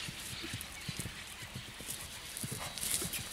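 A red horse that has been used to herd cattle walks on unpaved ground in a town, its hooves giving soft, irregular clip-clops under faint background noise.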